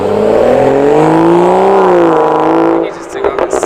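A BMW with an N55 engine and modified exhaust revs up and holds a loud, droning, rising and falling exhaust note close by for about three seconds, then drops off as people start talking.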